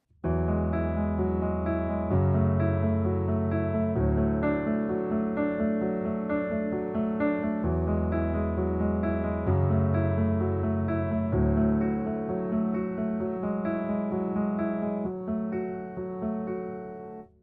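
Sustained piano chords from the pre-chorus of a song change every couple of bars over a steady low bass, playing continuously at an even, moderate loudness with no voices.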